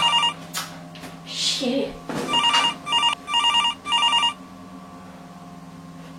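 A telephone rings in a room with repeated short electronic trills in a regular pattern, about four rings, with brief talk and movement noises at the start.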